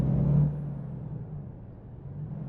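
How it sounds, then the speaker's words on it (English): A truck engine in American Truck Simulator idles with a low steady rumble, a brief hiss early on, then a quieter drone without voices. "This truck sounds interesting."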